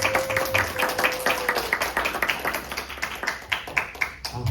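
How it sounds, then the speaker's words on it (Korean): A crowd of a church youth worship service applauding, a dense steady patter of many hands clapping together throughout, fairly loud and close. "우리 큰 박수로 환영해 주시면"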